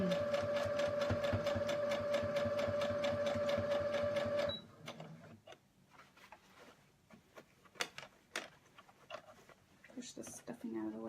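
A sewing machine top stitches around a stuffed heart-shaped pillow, running in a fast steady whir for several seconds before stopping, followed by quieter handling sounds and someone talking.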